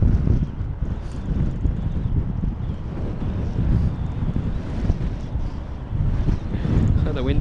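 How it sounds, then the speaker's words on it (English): Strong storm wind buffets a microphone outdoors at London Heathrow during Storm Kathleen, a constant loud rumbling roar with gusty surges throughout. "Oh, the wind is pushing me around."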